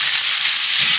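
Sun-dried tomatoes are stirred into a hot pan with a little olive oil, producing a constant close sizzle and hiss.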